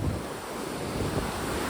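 The River Wharfe in high flow at the Otley weir, a loud, continuous roaring rush of turbulent water, with wind buffeting the microphone and no voices.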